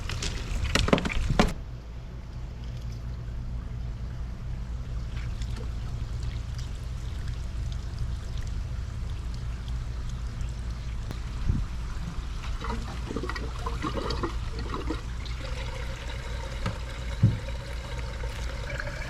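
Water pours and trickles steadily from a pump outlet into a bog under a low, constant rumble, with a sharp knock near the start and a few small splashes later.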